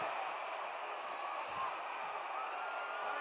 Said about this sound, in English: listen to this tremendous roar of applause given to Bull Curry